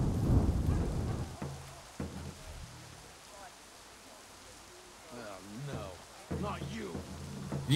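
Rain and rumbling thunder in the Assassin's Creed 3 video game: a loud thunder roll up front fades into steady rain hiss, with faint game voices and sounds under it.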